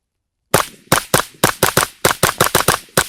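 CMMG Dissent MK57 rifle fired outdoors on snow and ice: about fourteen loud, sharp shots in quick, slightly uneven succession, close to the listener and with no talking.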